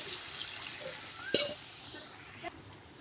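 Water pours into a cooking pot of fish curry with thin-sliced green banana, a steady hiss with one brief clatter near the middle before the flow eases off.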